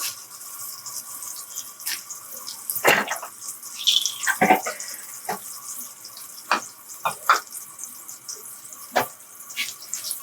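Dried red chilies frying in a pan with coconut milk and garam masala, a soft sizzle under scattered clinks and scrapes of a utensil stirring against the pan, fairly quiet and close.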